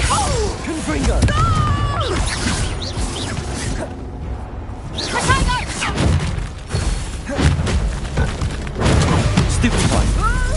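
Fire blast spells from the Hogwarts Legacy video game, several crashing booms and whooshing impacts in rapid succession amid busy combat, with a voice calling out spell names over the fray.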